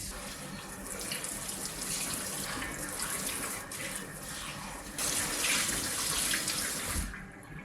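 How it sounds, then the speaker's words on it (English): Warm water runs steadily from a tap as wool yarn is rinsed, a continuous splashing flow that briefly swells louder near the end. "I'm going to rinse the yarn with warm water"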